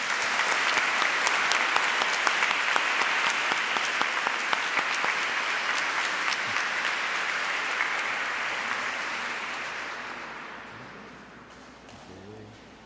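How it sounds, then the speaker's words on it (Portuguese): A church congregation at Sunday Mass applauds the newly confirmed, a loud sustained wash of many hands clapping that slowly thins and fades toward the end. "uma grande salva de palmas"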